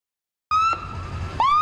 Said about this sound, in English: Sirens scream and ambulance rolls